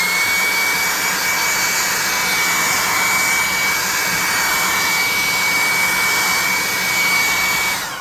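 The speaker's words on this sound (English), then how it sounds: "Let's hit him with the hair dryer" A hair dryer blows steadily and loudly throughout, a constant whooshing roar with a thin high whine, easing off slightly at the very end.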